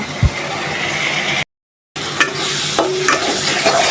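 Papaya pieces are stirred into a spice paste in a hot pan, making a loud, close, continuous sizzle and scraping that briefly cuts out to silence before resuming.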